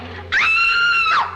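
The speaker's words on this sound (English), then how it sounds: "you scream real good" A woman's high, sustained scream from a classic Doctor Who episode, Tomb of the Cybermen, lasting about a second, loud and close and rising at the start, then falling away at the end.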